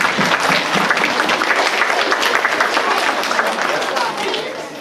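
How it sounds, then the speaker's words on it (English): Loud, dense applause from a school audience at a Veterans Day event, hands clapping continuously with a slight fade at the end and some voices mixed into the crowd. "Do you want to give him a round of applause again?"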